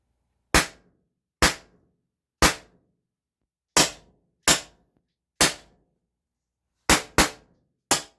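A .50 caliber air gun fired unsuppressed, nine sharp, loud cracks spaced irregularly about a second apart, each decaying quickly into silence.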